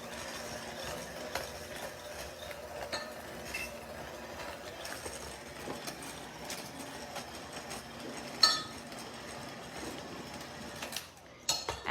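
Cream cheese and sugar being beaten together in a large bowl for a banana cream pie, a busy mechanical whir with scattered clinks and scrapes, fairly quiet and close.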